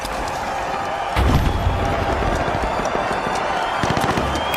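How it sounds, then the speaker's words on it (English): A frag grenade detonates in a video game with a sudden loud low boom about a second in, followed by rumbling debris and scattered crackling thumps. "Frag grenade out"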